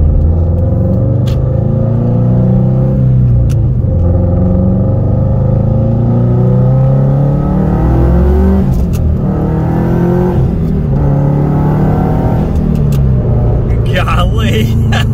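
A 2006 Subaru WRX STI with an aftermarket intake and mild tune accelerating hard, its engine rumbling and rising in pitch through sustained revs, loud and close from inside the cabin, with turbo boost building.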